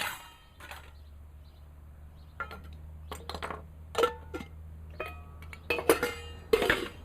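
Metal pieces of a Kelly Kettle camping stove, the pot, pot support and lid, clink and tap together as they are handled, sparse light knocks and rattles close by in a quiet room.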